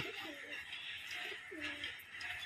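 Racing pigeons coo softly in a few low, rolling calls, fairly close but quiet, over a faint background hiss with no talking.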